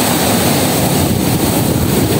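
Steady roar of surf and destructive waves damaging a coastal village, loud and constant throughout, with wind buffeting the microphone and no voices.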